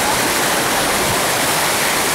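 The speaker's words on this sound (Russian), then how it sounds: "Такая сильная горная речка." A strong mountain river with a waterfall in Spain roars as a loud, continuous broadband rush of churning water, close and unbroken, with no voices.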